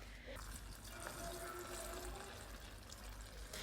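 Water running and pouring steadily into a pressure cooker packed with stuffed mahshi in a home kitchen, a continuous gushing wash.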